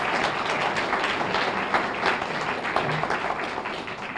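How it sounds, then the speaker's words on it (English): At a First Amendment award event, an audience gives loud, close, continuous applause, a thick wash of many hands clapping without pause for about four seconds. "I wish they would both stand so we can give them a round of applause"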